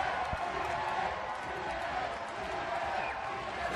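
Wrestling crowd at TNA Victory Road 2004 roars steadily, a dense wash of cheering and shouting that holds at a constant level throughout, with a commentator talking over it.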